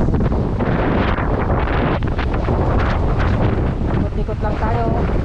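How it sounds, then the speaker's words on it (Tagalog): Strong typhoon wind buffets the microphone in a steady, loud roar throughout, with faint voices mixed in underneath. "Grabe yung hangin."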